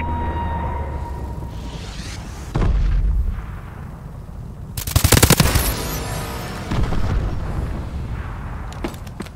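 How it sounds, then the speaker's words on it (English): Enemy missile strikes in the video game Call of Duty: Advanced Warfare land as a burst of loud booming explosions and rapid crackling blasts, with gunfire scattered around them during an online match. "Enemy missile strikes incoming."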